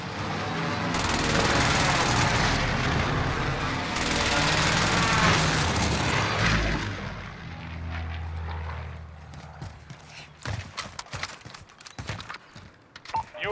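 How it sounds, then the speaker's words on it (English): A UAV flying over in Call of Duty on Rebirth Island plays as a dense, loud mechanical drone and rumble through the first half, then fades under scattered sharp game clicks and impacts. "UAV beginning flyover"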